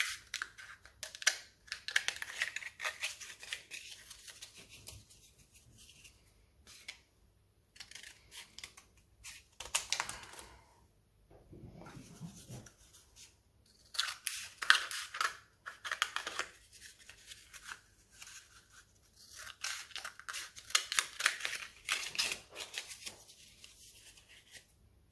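Scissors snipping paper rolls into quarters as part of altering a CD or DVD, a series of close, crisp cuts in irregular bursts with short pauses between them and no talking.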